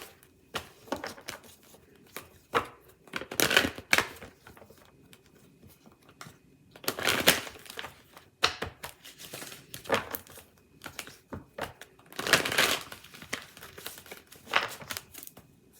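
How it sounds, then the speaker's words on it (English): Chakra oracle cards being shuffled and pulled: irregular bursts of papery riffling and crinkling with quieter gaps between them, close and soft, with no one talking. "let's pull some chakra cards"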